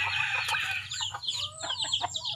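Chickens cluck and squawk close by on a farm, a busy overlapping flurry of short calls over a low background hum.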